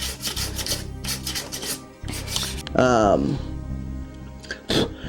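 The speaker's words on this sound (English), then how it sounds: "I'm going to do one light sand over the whole rifle" Sandpaper rasps in short, repeated strokes over the wooden stock of a VZ-52 rifle during a light sanding pass. A voice breaks in briefly partway through.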